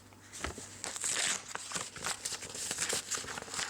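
Packaging from a parcel delivered by post crinkles and crackles as it is torn open by hand, a close, continuous rustling with sharper crackly bursts and no talk.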